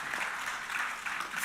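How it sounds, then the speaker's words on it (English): Audience applause at an energy industry conference plenary session, a brief, steady patter of many hands clapping, fairly faint and distant. "A round of applause would be good for Shane."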